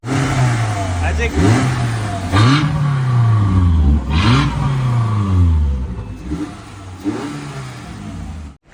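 Modified ex-Army Gypsy rally car revving hard while drifting, engine rising and falling in repeated surges, close and loud, with people talking over it.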